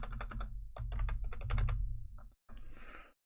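Rapid bursts of computer keyboard typing clatter up close, several quick runs of keystrokes separated by short pauses, then a final short burst after a brief silence.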